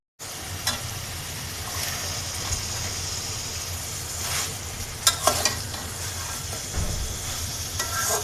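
Meat sizzling steadily as it is sautéed down in a pan, with continuous frying hiss, a low rumbling undertone and a few sharp scraping clinks from stirring.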